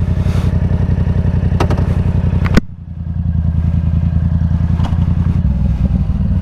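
A Yamaha R7 motorcycle engine runs steadily on the road, with a brief rev before easing off and a sharp drop in pitch, then the rumble carries on close by.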